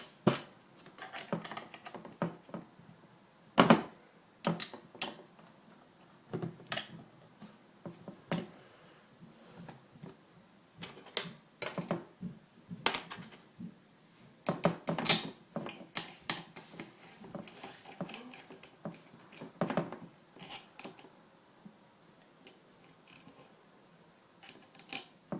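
Screws are driven one after another into the floor of a BT-4 model tank during maintenance, giving short, close, irregular ticks and mechanical clicks with brief pauses in between, no talking.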